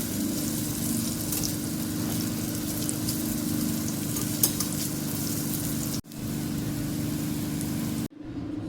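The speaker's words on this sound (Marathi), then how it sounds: "वडी आपल्याला तेलामध्ये खरपूस भाजून घ्यायचे" Potato vadi shallow-frying in oil, a steady bright sizzle and crackle running alone throughout, with two abrupt breaks near the end.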